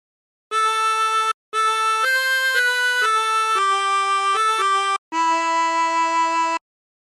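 A harmonica plays a Silent Night phrase with bent notes, sustained tones in several separated breaths with small pitch slides, clear and alone with no talking.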